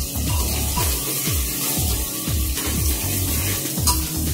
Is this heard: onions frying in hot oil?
yes